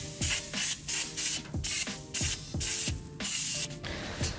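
Baking spray hisses from an aerosol can in repeated short bursts, about eight quick sprays in a steady rhythm, close and loud, with faint clicks between them while a pan is coated in a kitchen.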